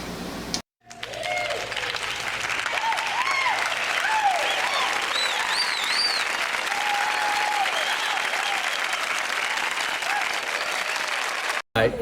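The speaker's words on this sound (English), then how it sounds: "and we applaud you" An audience aboard the cruise ship Carnival Pride applauds steadily and loudly, a dense sustained wash of clapping with a few whistles and cheers rising over it, cut off abruptly near the end.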